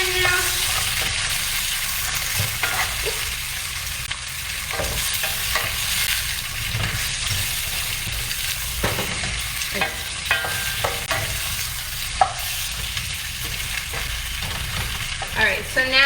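Summer squash and zucchini sauté in a pan with a steady broadband sizzle, broken by frequent scraping stirs and short utensil knocks, close and fairly loud throughout with no talking.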